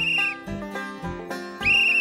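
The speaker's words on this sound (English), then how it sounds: "I blew on the whistle and then stopped to listen." Shrill whistle blasts from a search and rescue whistle, a few sharp piercing toots with short pauses between, loud and close.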